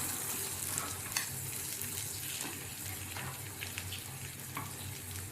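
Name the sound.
spice masala frying in a pan for rohu fish curry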